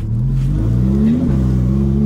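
A car engine revs hard and steadily, its pitch climbing and then settling at a high drone just before a drift, loud and close with no talk over it.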